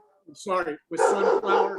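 A dog barks in a home during a township committee meeting, giving a short yip followed by a longer run of loud, close, rapid barks with no speech over them.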